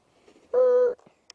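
Low-battery alarm on an RC plane flying a 4S battery, a single loud steady electronic tone lasting about half a second, heard close and clear outdoors.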